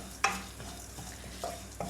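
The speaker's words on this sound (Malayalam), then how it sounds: "സാവധാനം വറുത്തെടുക്കുക, എന്നാലേ പാകത്തിനതായി കരിയാതെ നല്ല കളറിൽ നമുക്ക് കിട്ടത്തുള്ളൂ." Cabbage curry ingredients fry slowly in a pan over a low flame, with a soft sizzle under a few sharp scraping stirs of a spoon against the pan.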